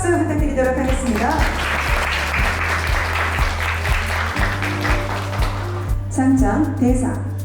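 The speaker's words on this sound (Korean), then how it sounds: "여러분 큰 박수 부탁드리도록 하겠습니다." Audience applause at a youth data campus project event and award ceremony, steady clapping under a continuous low hum, with a person speaking over it near the end.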